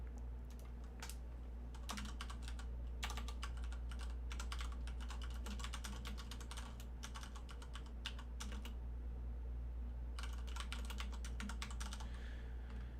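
Someone types on a computer keyboard in quick, uneven runs of clicky keystrokes with short pauses. The keys sound faint over a steady low hum, and no one speaks.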